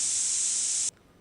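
A First Aid Spray in a Resident Evil-style game gives one loud, close, steady hiss lasting just under a second, then cuts off abruptly into quiet.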